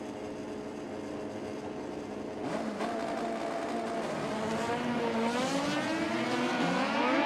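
Drag racing cars in the All Motor import versus domestic class launch and run down the strip in a qualifying round, engines droning steadily and then rising to a loud, climbing roar with sweeping pitch as they accelerate.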